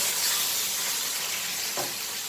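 Tomatoes hitting a hot pan for a creamy summer dish with roasted red kapya peppers give a steady, close sizzle of frying, with a brief louder burst of hiss partway through and no talking.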